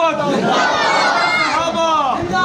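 A large crowd at a Deobandi religious gathering in Dera Ismail Khan chants the takbir slogan in unison, a dense, loud wall of many voices held steadily throughout.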